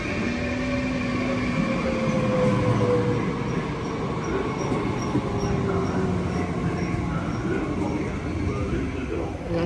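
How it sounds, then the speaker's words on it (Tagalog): A train pulls into a station as passengers wait to board for the ride home, its steady rumble and rail hum filling the whole stretch at close range, with a faint squeal of wheels and people talking nearby. "ito yung ating train"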